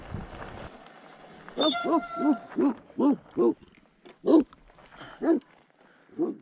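Several dogs barking near a herd of cattle along a rural bikepacking route, a run of about ten loud, spaced barks close by, with a low voice audible at the start.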